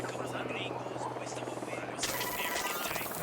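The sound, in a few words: helicopter flying in video game Ghost Recon Wildlands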